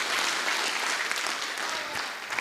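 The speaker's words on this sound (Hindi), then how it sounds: "इससे पहले एक जोरदार ताली से इनके अभिनय का इस्तकबाल कीजिए।" An audience at a stage play bursts into dense, loud applause for the actors, with steady clapping that eases slightly toward the end.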